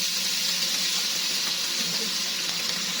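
Diced onions frying in oil in a cooking pot, a soft steady hiss close by with no talking.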